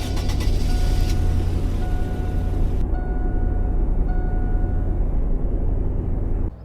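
A stock 1992 Chevy C1500 truck in the Roblox game Greenville Roleplay drives with a steady loud engine rumble and hum that runs unbroken, with a brief drop at the very end.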